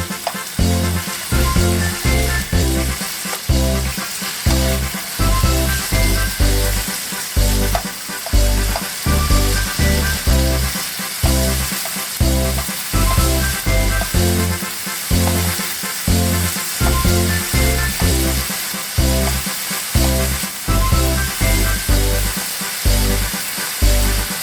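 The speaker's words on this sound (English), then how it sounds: "add the meat in a single layer so it browns nicely" Meat searing in a single layer in a pot for cheese steak spaghetti, a loud, close, continuous sizzle and crackle with rhythmic stirring scrapes repeating through the whole stretch, no talking.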